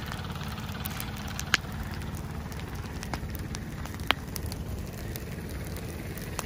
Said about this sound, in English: That's all just from the energy in this burn pile.